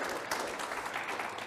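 An audience claps in a brief, steady patter of applause, moderately loud and continuous throughout, with no voices.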